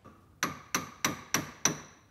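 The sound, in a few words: hammer tapping metal tabs on Deere 4300 front axle seal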